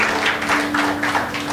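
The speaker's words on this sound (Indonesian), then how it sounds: "Berikan tepuk tangan untuk Tuhan." Church congregation clapping together in a steady rhythmic beat, dense and moderately loud, with a held tone underneath.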